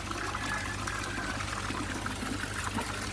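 Water pumped from a neighbouring pond pours steadily into a fish pond, a continuous close splashing gush over a low mechanical hum, with no voices.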